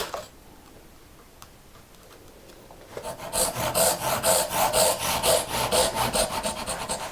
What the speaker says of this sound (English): So now it's time to cut the dovetails.